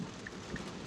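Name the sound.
heavy rain pouring on a Tesla car while driving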